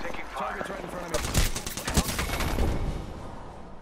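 Gunfire from a firefight in the battle-royale shooter Apex Legends, a loud burst of rapid shots with sharp cracks, lasting a few seconds.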